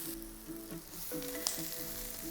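Bacon and mushrooms sizzle steadily in a frying pan, a continuous close crackle with faint tonal hum beneath and one brief sharper pop.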